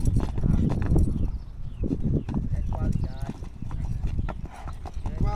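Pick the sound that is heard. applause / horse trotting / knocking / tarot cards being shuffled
horse trotting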